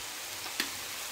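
Rice fries in a hot pan as soy sauce is mixed in, a soft continuous sizzle with one brief clack of a utensil against the pan midway, no voices.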